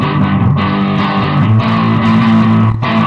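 A distorted electric guitar plays a song's riff, loud and sustained, with short breaks between phrases.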